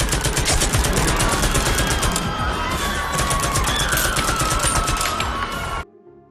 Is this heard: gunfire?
yes